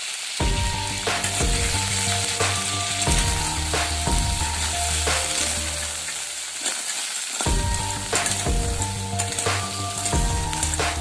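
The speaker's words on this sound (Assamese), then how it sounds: "মিনিট মান ভাজি লওঁ" Crab frying in a pan with salt and turmeric sizzles steadily up close, with repeated scraping and clinking of a utensil stirring against the pan in an irregular rhythm, no voices.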